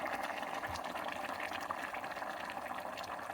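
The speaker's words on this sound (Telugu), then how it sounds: "ఇప్పుడు వేడి నీళ్ళు చేసి వేసుకోవాలి" Hot water poured steadily onto basmati rice in a pot for pulao, a continuous close splashing, filling stream with no talk over it.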